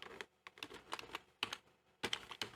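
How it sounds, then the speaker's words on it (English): Someone types on a computer keyboard in short bursts of quick, crisp key clicks separated by brief pauses, close and fairly quiet, with no talking. "So I'm going to type sub"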